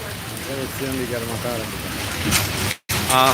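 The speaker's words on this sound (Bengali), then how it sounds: "প্রচুর বৃষ্টি হচ্ছে" Heavy night rain falls steadily across Sylhet city, a constant hiss of water under nearby voices and a faint hum.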